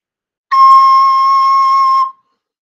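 Recorder sounding a single sustained high C, a clean steady whistle-like tone held for about a second and a half before stopping cleanly, alone.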